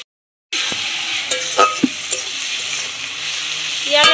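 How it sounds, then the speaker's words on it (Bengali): Tomato and onion fry in a pan and are stirred. A steady, bright sizzle starts after a moment of silence, and scattered spoon scrapes and knocks against the pan come through on top. "এবার একটু ভাজা ভাজা করে নেব টমেটো আর পেঁয়াজটা"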